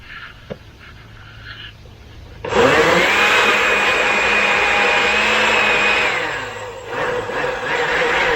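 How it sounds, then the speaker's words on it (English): A blender mixing black Permateak powder and water kicks on suddenly and whirs loudly at a steady pitch for several seconds, then slows and restarts briefly, close by. "2 scoopfuls of black permateak into my blender."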